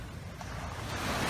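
Ocean surf rolls onto a beach at Phuket as a steady broadband wash with wind noise, building slightly louder toward the end, with no voices.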